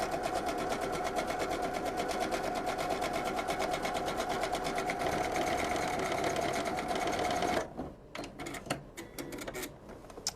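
A sewing machine stitches a fabric face mask, a fast, steady mechanical whirr and needle clatter running continuously for several seconds, then stopping and giving way to a few scattered clicks and handling noises.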